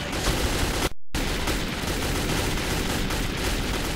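Gunfire in the Metro 2033 video game: dense, continuous loud shooting that fills the clip, broken by one very short silent gap near the start.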